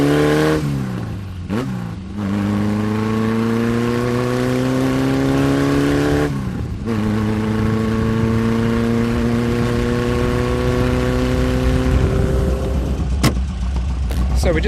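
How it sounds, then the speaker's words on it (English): Porsche 550 Spider replica engine revving hard from inside the car, rising pitch through several gear changes with brief dips between shifts, loud and continuous, a small buzz of background chatter underneath. "Porsche 550 Spider replica."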